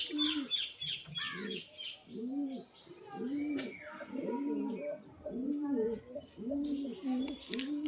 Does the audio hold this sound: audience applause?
no